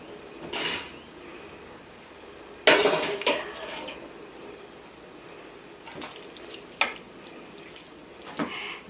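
Mac and cheese with bacon gets stirred in a pot, making scattered clinks and scrapes of a utensil against metal, with a few louder knocks spread through otherwise quiet moments.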